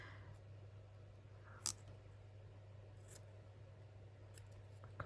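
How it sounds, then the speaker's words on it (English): Scissors trim paper craft labels for a Christmas junk journal cluster, producing a few faint, sharp snips in an otherwise quiet room. "this definitely needs trimming"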